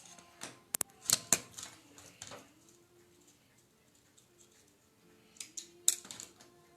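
Scissors snip through patchwork fabric at a seam in a few quick clusters of close, crisp cuts separated by quiet pauses.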